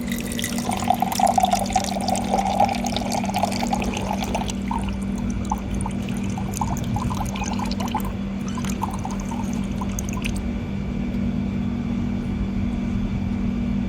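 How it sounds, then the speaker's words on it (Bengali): Water pouring from a drinking water cooler at a church in Dubai, a steady close stream over a constant low hum, with faint clinks, no voices. "এই যে ঠান্ডা জলের কুলার, খাওয়া যাক একটু জল"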